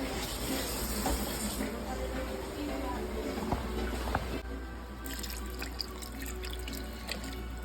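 Tap water runs into a pot of beef rib curry with milk, tomato sauce and potatoes, a steady close splashing stream lasting several seconds with kitchen clatter and a voice speaking over it.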